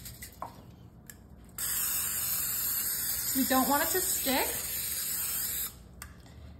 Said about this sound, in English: I have a sheet pan here that we're gonna spray with our Pam